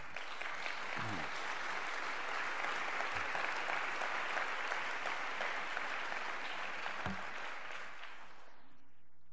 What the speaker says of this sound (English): hold your applause. No, applaud more.